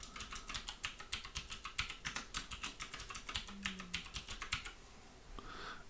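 Password being typed on a computer keyboard: a quick, uneven run of close, crisp key clicks for about five seconds, then stopping into quiet room tone.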